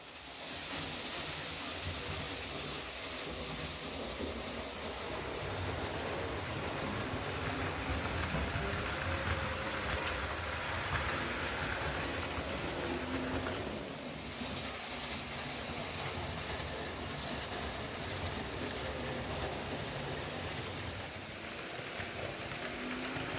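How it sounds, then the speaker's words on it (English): A 1/87 scale model diesel locomotive hauls an intercity train along the track, a continuous rushing rumble of wheels and motor that swells and fades slightly over a long pass, with no voices. "modern diesel engines are in operation as well, like this one pulling an intercity train"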